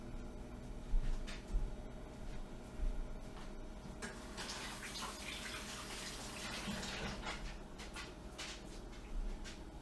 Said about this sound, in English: before touching anything, wash your freaking hands